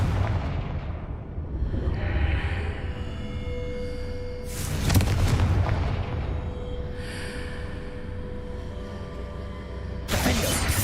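Confringo fire spell blasts in the Hogwarts Legacy video game: two loud, broad explosive bursts a few seconds apart, with rumbling game ambience and tonal music between them.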